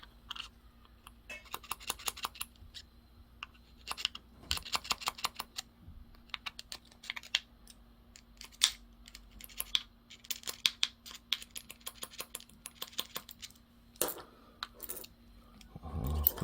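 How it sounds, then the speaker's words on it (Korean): A flat-head screwdriver taps a fishing reel handle knob bushing into place, quick bursts of light, sharp metallic clicks in rapid runs, close and alone. "일자 드라이버로 집어넣고 그냥 톡톡톡톡톡 맞춥니다"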